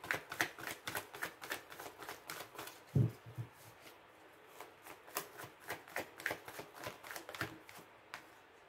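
Tarot cards shuffled and drawn by hand, a steady run of quick, soft riffling flicks and slaps, close and fairly quiet, with one low thump partway through and no talking.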